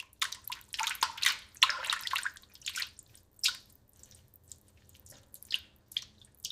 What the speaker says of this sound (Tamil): இந்த கோழிய சுத்தமாக கழுவ வேண்டும்.